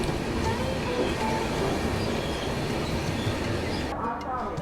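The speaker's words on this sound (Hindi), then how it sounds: "ये मेरे ख्याल से नई दिल्ली से लखनऊ की तरफ जाने वाली लेजेंडरी लखनऊ मेल है।" Legendary Lucknow Mail passenger train from New Delhi to Lucknow rolling past, a loud, steady broadband rumble of wagons and wheels throughout, close by, easing slightly at the end.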